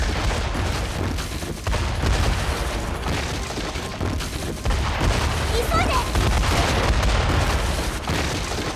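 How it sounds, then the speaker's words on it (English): Dense, continuous rumbling blasts and crackling booms from the video game Metaphor: ReFantazio, loud and sustained without a break, with no talking over them. "Explosions."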